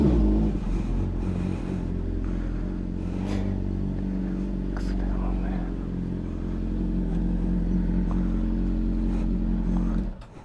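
A Honda CBR motorcycle idling at a drive-through, its low engine rumble running steadily and close by under brief talk before cutting off at the end.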